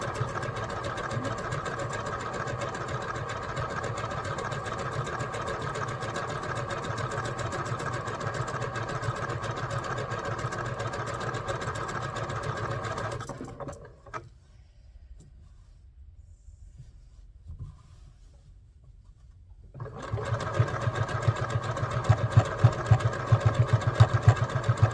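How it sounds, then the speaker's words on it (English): A sewing machine hums steadily while stitching a maple leaf garden flag, runs for a long stretch, falls quiet for a few seconds, then starts up again even louder. "this is the boring part where you sit here and watch me sew"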